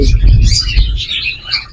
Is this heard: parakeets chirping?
yes